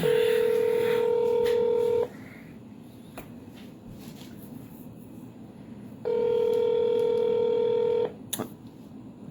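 A phone being dialed to place a call: a loud steady dial tone for about two seconds, a quiet gap with faint handling noise and short blips, then the tone returns for another two seconds before stopping.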